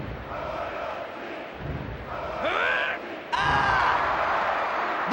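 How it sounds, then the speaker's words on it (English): Arena crowd roaring and cheering during a wrestling match in the WWF Attitude PS1 video game, a sustained loud wash that swells and surges, with a commentator talking over it. "This crowd is going bananas!"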